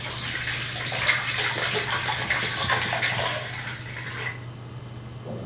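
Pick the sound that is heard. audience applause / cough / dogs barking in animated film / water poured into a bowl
water poured into a bowl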